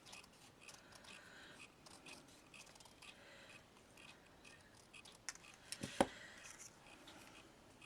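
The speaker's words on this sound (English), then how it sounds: "I'm just going to attempt to cut out a small circle." Faint snipping of scissors cutting a small paper circle for craft flowers, soft repeated little clicks, very quiet, building to a few sharper snips near the end over a low room hiss.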